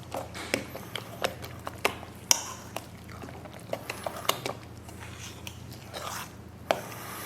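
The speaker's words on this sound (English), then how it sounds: "So here we just stir these together." Batter of grated zucchini and potato for Lithuanian pancakes being stirred in a bowl, a quiet, irregular series of soft wet clicks and scrapes, close but faint, with no talk.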